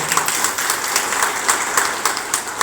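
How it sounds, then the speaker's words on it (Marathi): An audience at a community meeting claps for a speaker, a dense, continuous patter of many hands, loud and sustained, with occasional sharper bursts. "आज ते आपले वक्ते आहेत त्यांच्यासाठी सगळ्यांना टाळ्या वाजवायच्या आहेत।"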